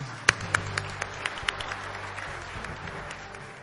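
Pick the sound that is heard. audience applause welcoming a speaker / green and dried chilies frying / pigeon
audience applause welcoming a speaker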